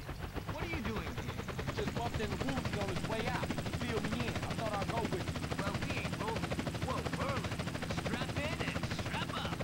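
A steady helicopter rotor drone in GTA San Andreas throbs continuously, with a voice talking over it throughout.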